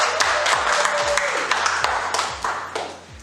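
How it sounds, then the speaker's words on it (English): Applause at a book event in San Francisco: a roomful of people clapping, with a few crisp individual claps audible over the crowd wash, tapering toward the end. "A round of applause."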